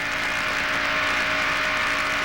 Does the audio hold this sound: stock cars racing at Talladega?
yes